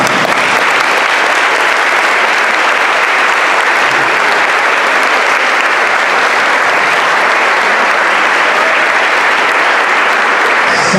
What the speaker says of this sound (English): These seniors deserve a round of applause.